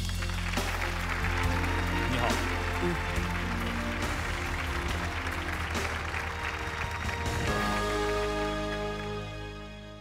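An audience applauds a teacher's entrance on stage at a Chongqing TV Teachers' Day show. The clapping is steady and sustained over studio music, and a voice speaks briefly.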